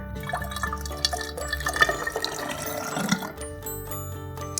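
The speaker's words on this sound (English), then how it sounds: "we're going to pour our hydrogen peroxide in our cylinder" Hydrogen peroxide is poured through a funnel into a cylinder, giving a faint liquid trickle and small drips under a backdrop of music with sustained tones.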